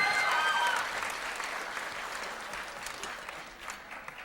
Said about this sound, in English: How about giving these guys a big round of applause?